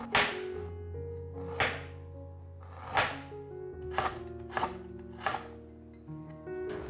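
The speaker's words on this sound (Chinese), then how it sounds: "把姜切片" Knife slicing fresh ginger on a cutting board in a home kitchen, seven crisp separate chops at an unhurried, slightly uneven pace over soft background music, close and clear, with no talking.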